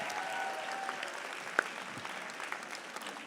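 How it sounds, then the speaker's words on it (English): Quiet, somewhat distant applause from a gala audience for Cory Booker, a soft continuous patter of hands with a few sharper individual claps standing out. "Another round of applause for Cory Booker"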